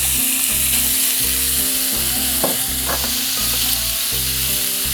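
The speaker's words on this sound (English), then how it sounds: "We're just gonna saute those up." Canned Hatch green chilies sauté in a hot pan with a loud, steady sizzle up close and occasional stirring clatter, no voices.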